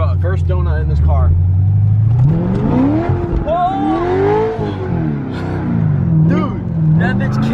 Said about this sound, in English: First donut in this car.